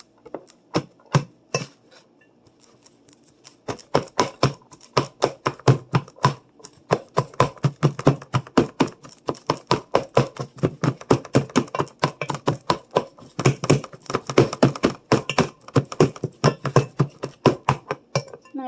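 Ground beef being broken up and scraped in a Dutch oven, a rapid series of sharp utensil knocks and scrapes against the pot, steady and close, with a brief pause early on before the rhythm picks up.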